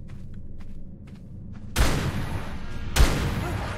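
Gunshots fired at a Megalania in a cave in the video game ARK Survival Evolved: a quiet stretch of faint clicks, then two loud, close booming shots about a second apart, each trailing off in a rumbling echo.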